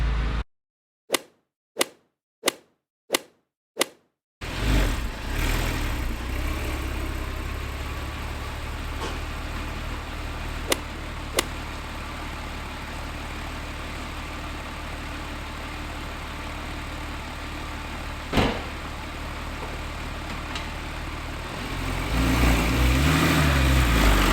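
A Porsche Carrera 911 (997) engine settles into a steady, loud idle while warming up, preceded by a few sharp separated clicks and followed by a brief louder swell near the end.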